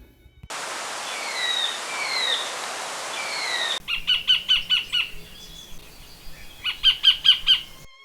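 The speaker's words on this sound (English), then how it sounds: "It's New Zealand kingfisher, or kōtare." A New Zealand kingfisher, or kōtare, calls in a backyard garden with two bursts of sharp, rapidly repeated piercing notes in a steady rhythm, clear and fairly close, preceded by a short stretch of steady hiss.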